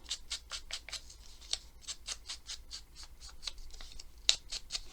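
Scissors snip paper for a handmade journal card in a quiet room: a steady run of about twenty short, crisp cuts, close and fairly soft, with no voices.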